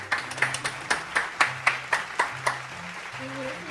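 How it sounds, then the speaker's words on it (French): About a dozen quick, crisp hand claps come in a steady rhythm from a small family group indoors, fading out after a few seconds, with faint voices around them. "on devrait l'applaudir"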